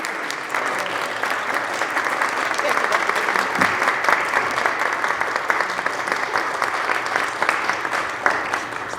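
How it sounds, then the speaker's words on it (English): Sustained applause from senators filling the New York State Senate chamber, dense continuous clapping at moderate loudness lasting throughout, with some voices mixed in. "Most applause we've had in the chamber in 2 years."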